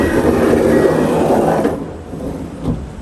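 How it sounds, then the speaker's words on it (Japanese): A train pulls into Tōbetsu station in Hokkaido on a rainy day, a loud close rumble of wheels and running gear that eases off partway through, leaving a quieter hum with a brief knock near the end. "列車は当別駅に到着します。"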